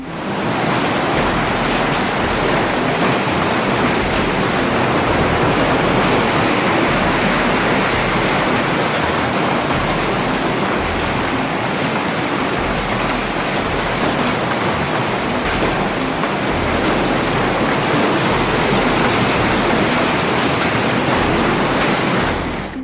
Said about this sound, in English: You couldn't hear anything above the din that the hail was making on the roof.